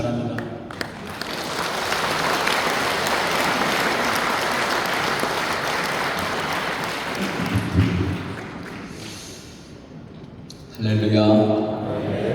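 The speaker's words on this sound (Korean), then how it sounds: "큰 박수로 환영해 주시기 바랍니다." An audience at a national church elders' convention applauds to welcome a pastor to the stage: a sustained wash of clapping for about nine seconds that fades out, followed by a voice speaking.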